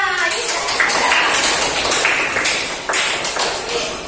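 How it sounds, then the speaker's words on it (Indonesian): A classroom of students claps together in a dense, continuous burst of applause during a lesson, loud and close, with the clapping fading slightly toward the end. "Bagus, tepuk tangan buat semuanya."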